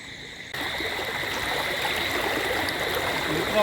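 Steady rushing floodwater after heavy rain flows continuously through a village at night after a brief quieter start, a broad constant roar like a fast stream, fairly close.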